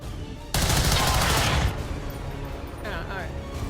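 Gunfire in the video game XCOM 2, a loud dense burst of automatic shots lasting about a second, followed by quieter game effects and a brief rattling tail.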